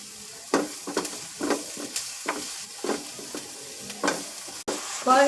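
Onions and masala for noodles sauté in a pan, with rhythmic spatula strokes scraping and stirring every half second or so over a light, close sizzle.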